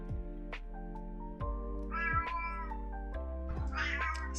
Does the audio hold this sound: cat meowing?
yes